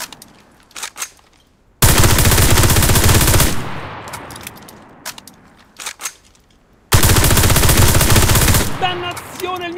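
OVP M1918 submachine gun firing in the video game Enlisted, two long loud continuous bursts separated by quieter mechanical handling clicks, with a faint voice near the end.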